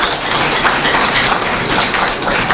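A crowd claps steadily for the Mwira girls' rugby champions at a Kakamega team flag-off event at Golf Hotel, a dense, continuous patter of many hands close by without a break.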